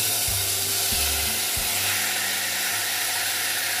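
Steady sizzling of pork belly frying in hot oil in a pot, a continuous loud hiss with a few low clunks near the start.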